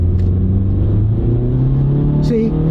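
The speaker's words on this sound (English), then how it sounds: "See, it revs real high." A car with a CVT transmission accelerating from a stop, its engine revving high and holding a steady droning pitch that climbs gradually, loud and close, with someone talking briefly over it.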